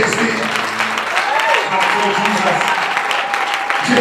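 Church congregation at a Sunday service applauding, a steady dense clapping throughout with voices shouting and calling over it, close and loud.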